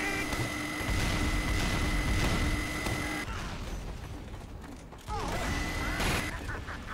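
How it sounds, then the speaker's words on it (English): Minigun fire roars in a video game as a dense, continuous burst of rapid shots, followed by clanking mechanical and impact noises in a busy, loud battle soundscape. "he just walks through and then just kills somebody with a minigun"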